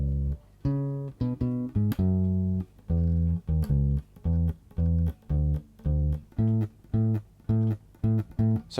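Four bars of the bridge of a song are played alone on a bass guitar: clear, close, plucked notes in a steady rhythm, with short repeated phrases and octave jumps.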